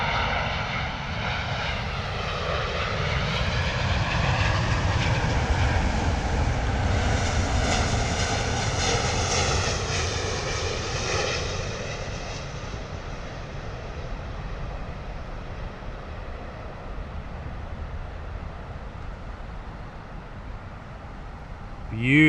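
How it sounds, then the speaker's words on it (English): A British Airways Boeing 777-200 arriving from Toronto lands at Heathrow, its jet engine roar swelling loud and close, then easing to a steady rumble after touchdown. "Beautiful touchdown there from the 777"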